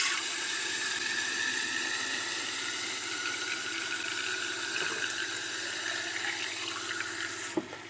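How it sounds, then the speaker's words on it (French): A cold water tap runs steadily with a constant rushing hiss of water, unbroken for several seconds, close and fairly loud, with a faint click near the end. "Donc avec le robinet d'eau froide, j'ouvre"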